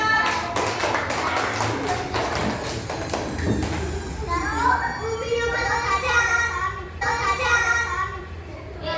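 A burst of hand claps from children in a classroom rings out in the first few seconds, followed by children's voices chattering and calling out.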